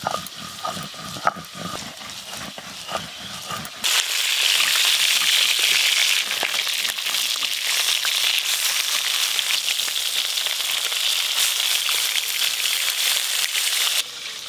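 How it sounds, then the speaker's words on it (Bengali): River tul fish rubbed with salt and turmeric sizzles in a hot pan: a few clattering knocks first, then a loud, steady frying hiss that runs on without a break. "এবার মাছগুলো ভেজে নেব"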